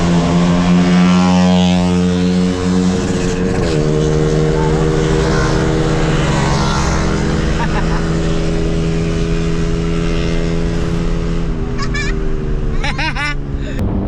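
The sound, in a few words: motorcycle engines on highway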